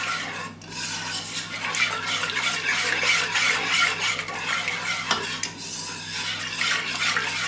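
A whisk scrapes steadily around a pot of semolina kheer over a low flame, a continuous brisk swishing with faint metallic scraping and no talk.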